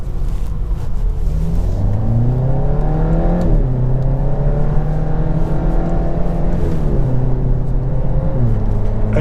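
A Volkswagen Golf GTI TCR engine pulls hard through the gears on a track lap, the loud in-cabin note climbing in pitch with each gear and dropping sharply at each shift.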